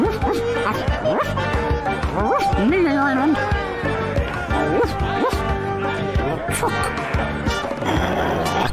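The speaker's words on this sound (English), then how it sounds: "Vamos a hablar con el perro para reírnos un rato." A cartoonish dog barks and yips in The Secret of Monkey Island video game, in short repeated barks and whimpers over game music, with a person talking throughout.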